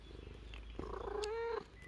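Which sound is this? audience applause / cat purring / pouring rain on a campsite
cat purring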